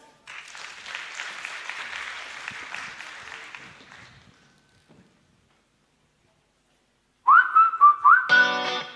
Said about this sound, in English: So welcome Miroslava Stabrin with applause.